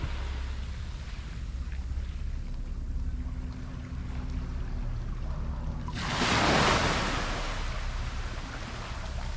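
Ocean waves break on a beach in Vieques, Puerto Rico, with a steady surf wash and a louder wave crashing and surging near the end. Wind rumbles against the microphone throughout.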